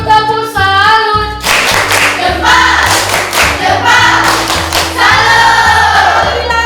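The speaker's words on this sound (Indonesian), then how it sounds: "kasih tepuk salut untuk kelas 39." A class of young children in an Indonesian school lesson performs the rhythmic tepuk salut salute clapping, patterned claps and chanted voices in unison, loud and close, repeating in a set beat.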